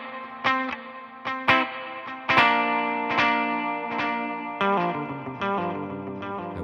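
An electric guitar runs through a long delay into a reverb pedal, so scattered picked notes and chords are followed by washy, echoing repeats that blur together in a spacious, moderately quiet tail.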